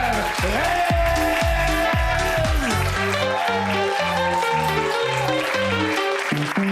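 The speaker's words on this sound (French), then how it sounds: "Commencez à applaudir pour Amer." Audience applause for comedian Amer Rez at a Quebec stand-up comedy show, a steady wash of clapping running under loud, bass-heavy intro music throughout.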